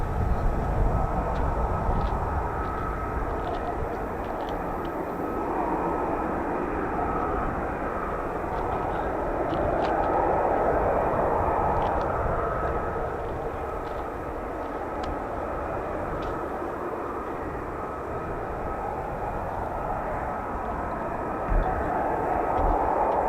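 An F-35 Lightning stealth fighter jet of 617 Dambusters at an RAF airshow, a continuous broad engine roar that swells and fades slightly over a long stretch, steady and somewhat distant.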